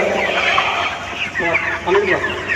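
Broiler chickens, 33 days old, in a batch of about 500 at a poultry farm, clucking and calling continuously close by, with people talking over them.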